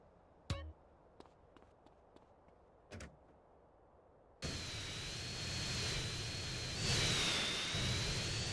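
A jet aircraft in GTA San Andreas starts up after a few scattered clicks and thumps, its engine roar coming in suddenly and swelling louder with a thin high whine on top.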